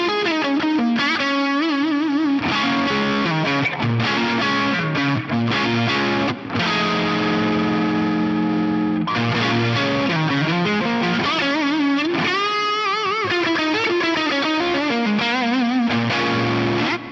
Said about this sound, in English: we're going to kick it right over the edge with the Super Overdrive